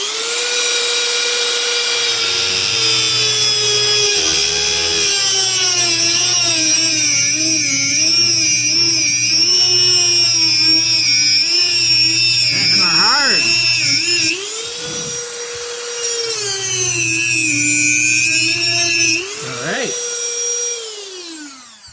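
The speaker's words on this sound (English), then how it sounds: "I'm going to take these nails or screws or whatever they are, and I'm going to cut them off underneath the surface with my Dremel" A Dremel rotary tool cuts off nails in barnwood, a steady high-pitched whine that dips and shifts as it bites into the metal, loud and close throughout with brief pauses.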